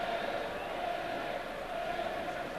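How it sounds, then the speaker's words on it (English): A football stadium crowd of around 50,000 at an FC Porto versus Barry Town match fills the air with a continuous, dense roar and murmur at steady volume, with no single voice standing out. "But what a crowd! Great atmosphere."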